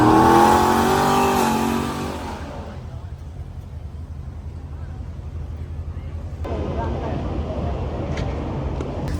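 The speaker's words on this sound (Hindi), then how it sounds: "और कार्स देखो, बोलते हैं ना गाड़ी कैसे कैसे गाड़ी।" Cars drive past on a busy Chicago street, a steady broadband traffic rush that follows a few seconds of talking and swells slightly near the end.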